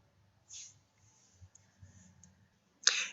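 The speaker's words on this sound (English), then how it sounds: "So I click on this and click Open." A computer mouse clicks twice, sharp and close, with a quiet pause and faint background hum between the two clicks.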